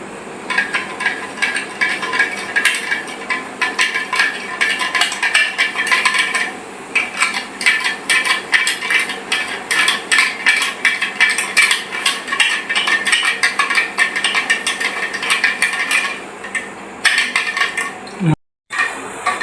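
A spoon stirs a mixture with water, giving a fast, steady run of bright clinks against the container that lasts nearly the whole time and breaks off briefly near the end.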